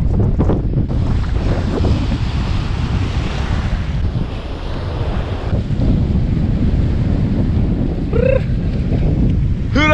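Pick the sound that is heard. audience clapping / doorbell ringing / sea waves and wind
sea waves and wind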